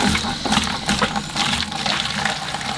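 Water from a garden hose running steadily through a Jeep Wrangler heater core during a flush, a continuous splashing, gushing wash with no voices.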